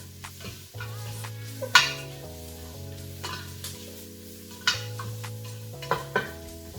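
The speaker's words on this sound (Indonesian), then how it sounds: "bawang merahnya ditumis sampai berbau wangi, tapi jangan sampai hangus ya" Shallots sautéing in a pan at home: a soft sizzle runs under sharp clinks and scrapes as a utensil stirs against the pan, over a steady low background tone.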